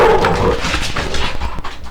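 Dogs bark and whine indoors in a brief, loud, close burst of yelping over a busy noisy background, with no speech.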